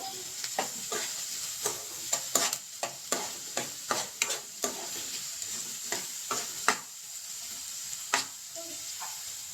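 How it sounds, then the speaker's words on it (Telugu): Onions sizzle in oil over a medium flame, close and steady, with frequent sharp spatula taps and stirring scrapes in an uneven rhythm and no talking. "ఉల్లిపాయలు వేసుకుందాం ముందుగా మెల్లిగా వేసుకోండి ఆయిల్ తిరుగుతుంది మీడియం ఫ్లేమ్లో పెట్టుకోండి గ్యాస్ని"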